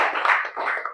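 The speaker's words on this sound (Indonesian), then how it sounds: "tepuk tangan untuk Nala" A short, dense burst of clapping from a school class for a student after her group presentation, close and fairly loud, lasting under a second.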